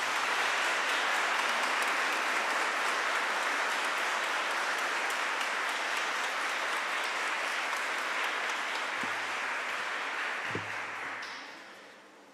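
Sustained applause from a large crowd after a concert in a basilica, steady and dense, fading out near the end; a couple of brief low thumps sound in the final seconds.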